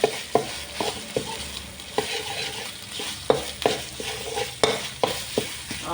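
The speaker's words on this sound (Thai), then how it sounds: "ผัดพริกแกงให้หอมก่อนนะคะเพื่อนๆค่ะ" Curry paste sizzles and fries in a pan for a catfish curry as a utensil stirs it, producing a run of sharp scraping strokes over a steady close crackle.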